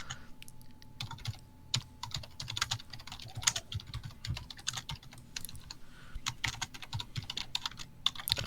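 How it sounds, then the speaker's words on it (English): Fast, steady clatter of a mechanical keyboard being typed on close by, with bursts of keystrokes and short pauses, alone with no talking. "I've got a mechanical keyboard,"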